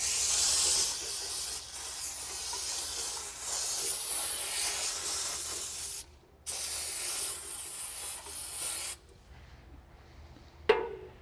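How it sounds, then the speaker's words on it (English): An aerosol can of Berryman brake parts cleaner sprays in long hissing bursts, loud and close, with brief pauses between them, then stops with a small clunk. "we're going to give it a spray."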